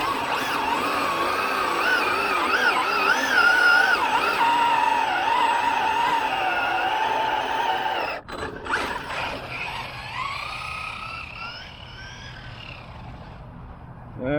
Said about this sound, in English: let's warm up the tires a little bit